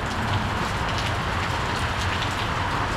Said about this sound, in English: Impromptu downpour.